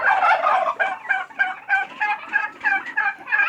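Turkeys gobble loudly and repeatedly on a poultry farm, a close, rapid run of rattling calls coming in quick bursts, with chickens also kept there.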